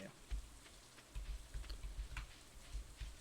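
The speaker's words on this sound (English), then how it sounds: "it's a rainy day" Soft rain falls steadily in Stardew Valley, a faint hiss with scattered light patters and taps.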